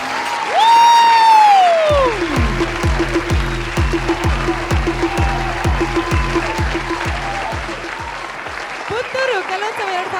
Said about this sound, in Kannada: ಇನ್ನೊಮ್ಮೆ ಜೋರಾದ ಚಪ್ಪಾಳೆ ಕೀರ್ತಿ ಅವರಿಗೆ